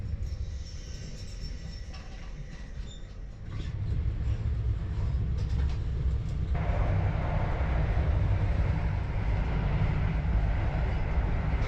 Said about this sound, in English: it might be a bit clanky when we're riding along at speed, but this old HST set can still make decent progress